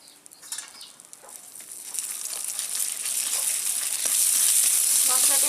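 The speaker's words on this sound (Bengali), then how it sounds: "মশলাটা হালকা একটু ভেজে নেব" Spice paste added to hot oil in a pan with fried lentil dumplings for a rural radish dish, a sizzle that builds from quiet crackles into a loud steady hiss.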